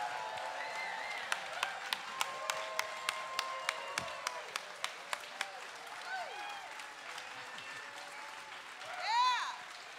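An audience applauds Linda Tillery and the Cultural Heritage Choir at a family matinee, with a moderate spread of clapping under a voice speaking, a run of sharp regular taps partway through, and feedback-like whistles near the end.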